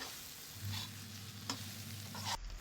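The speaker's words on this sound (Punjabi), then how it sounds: "ਫਿਰ ਇਹਨੂੰ ਚੰਗੀ ਤਰ੍ਹਾਂ ਹਿਲਾਉਣਾ ਤਾਂ ਕਿ ਜਿਹੜੇ ਆਲੂ ਆ ਉਹ ਥੱਲੇ ਨਾ ਲੱਗ ਜਾਣ" Potatoes with salt and chili spices stirred in a pan, a steady low sizzle with soft scraping strokes of the spoon, close and fairly quiet throughout.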